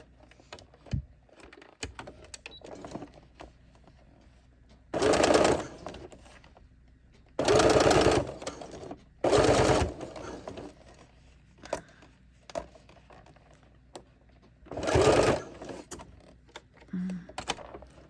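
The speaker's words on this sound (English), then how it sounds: "now we're gonna do straight stitch going over back and forward" A sewing machine running straight stitches back and forward while sewing a leg garter, in four or five loud bursts of rapid needle clatter separated by quiet pauses with small handling clicks.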